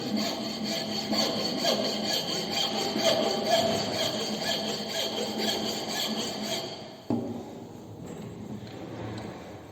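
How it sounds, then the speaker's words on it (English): A smooth hand file rasps steadily across the ends of a wooden mortise piece in a carpentry shop, with continuous close scraping strokes for about seven seconds, a brief break, then lighter filing resuming. "We'll file the ends it's smooth file. just to smoothen them."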